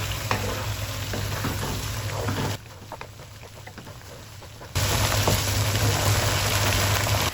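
Spinach fries on high heat in a pan with a steady, dense sizzle that drops noticeably quieter for about two seconds midway, then returns louder and fuller to the end.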